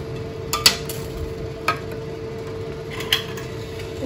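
Metal jar lids clink and rattle a few times in a frying pan at irregular intervals as they are boiled, over a low steady bubbling hum.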